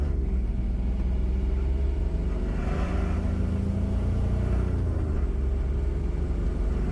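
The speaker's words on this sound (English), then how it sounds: "let's accelerate normally and see how the turbo reacts" Kubota D722 diesel engine in a Honda fitted with a VNT turbo, accelerating: a steady low rumbling drone that swells in pitch as the engine pulls, continuous and close with no talk.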